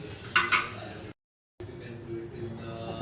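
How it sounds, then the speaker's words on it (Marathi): A lid comes off a cooking pan of eggs simmering in a spiced tomato sauce, giving a couple of bright metallic clinks up close, followed by a brief silence and then a quiet kitchen murmur. "आता झाकण काढून घेतोय"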